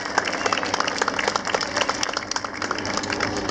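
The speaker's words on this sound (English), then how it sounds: "let's give them a round of applause." An outdoor crowd at a Mesa park opening claps loudly for the students who helped design the park, a busy, close, uneven patter of many hands that keeps going throughout.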